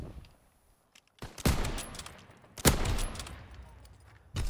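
Sniper rifle fire in Call of Duty WW2 comes as several sharp, loud reports spread across a few seconds over a quiet game background. Each shot leaves a brief rumbling tail.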